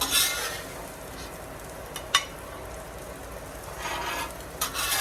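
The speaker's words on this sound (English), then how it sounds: "this is definitely a hot griddle. So he's gonna have 3 eggs scrambled" Three eggs being scrambled on a hot STEELMADEUSA steel griddle, a steady close sizzle with scraping and stirring sounds and a couple of sharp metal taps from a utensil.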